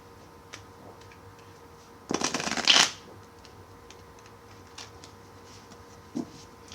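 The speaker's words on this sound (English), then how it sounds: "Some cards are easy to shuffle, other cards are not so easy." A single brisk riffle of playing cards, close and crisp, lasting under a second amid quiet room tone with a few faint clicks.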